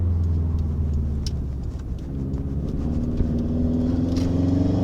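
Subaru STI with Perrin sway bar and endlinks taken hard through a turn, giving a steady, loud engine drone with low rumble throughout, no voices over it.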